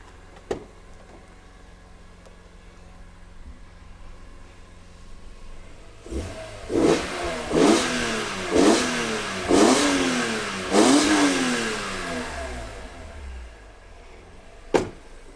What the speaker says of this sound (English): let's give it a couple of revs with that open